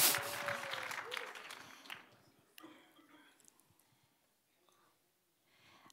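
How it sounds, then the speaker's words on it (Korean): An audience gives applause for an interpreter at a bilingual Korean-English church lecture. The clapping is fairly quiet and fades out over a few seconds, leaving near silence. "give it a hand to Paul"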